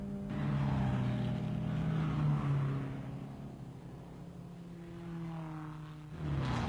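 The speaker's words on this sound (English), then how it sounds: "The Lancia Ferraris round the carousel." Lancia Ferrari racing cars at the 1957 German Grand Prix drone around the Nürburgring Carousel, their engine notes rising and falling in pitch as they pass at a moderate distance, heard alone without voices.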